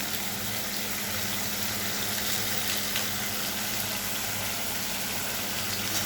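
Spice masala with turmeric and Kashmiri chilli powder frying in a pan for a fish curry, a dense continuous sizzle that holds steady and close throughout, with no speech.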